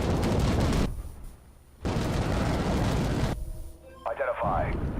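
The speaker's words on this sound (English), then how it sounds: "a B2 is about to drop bombs" Bombs from a B2 bomber strike in the tank game Armored Warfare, with heavy rumbling blasts filling the first second and again for about 1.5 seconds in the middle, followed by a louder bright burst and chirping effects near the end.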